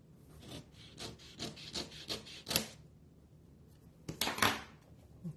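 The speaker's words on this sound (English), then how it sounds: "I'm going to go ahead and trim off that piece that overhangs" A piece of cardstock being trimmed gives quiet, rhythmic scraping and rasping strokes, then a pause, then a short louder burst of cutting, close up with no talking.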